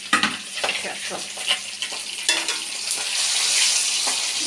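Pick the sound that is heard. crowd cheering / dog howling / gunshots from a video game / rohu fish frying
rohu fish frying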